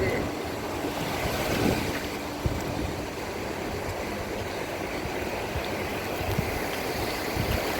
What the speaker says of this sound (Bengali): উত্তাল বলা যায় না, হালকা সমুদ্র। দীঘা সমুদ্র এরকমই হয়।